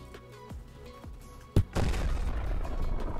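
A grenade goes off in the Battlefield-style shooter Polyfield: a sharp, loud boom followed by a sustained rumbling wash, after a few softer thumps and pops of gunfire.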